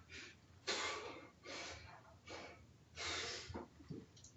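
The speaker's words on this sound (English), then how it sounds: "Trying to get that breathing under control." Heavy breathing during an exercise class: five strong, breathy exhales in a steady rhythm, fairly close and loud, with a couple of short sharp puffs near the end and no talking.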